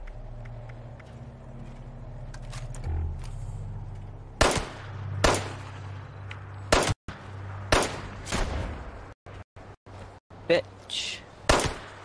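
Gunfire in the Fallout 76 video game, scattered loud cracks in irregular clusters over a low background hum, with a voice speaking briefly.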